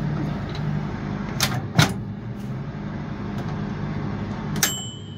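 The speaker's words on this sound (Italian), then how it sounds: "Ora comunque spengo il microonde." A microwave oven running from a DSTeK 3000-watt pure sine wave inverter is switched off: a couple of sharp clicks and a thud stand over a steady low hum, then a short bright tone near the end.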